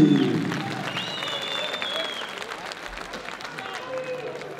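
Crowd applause at a professional English boxing semi-final for boxer Karim Kessaghli, steady clapping and cheering from the audience under an announcer's voice.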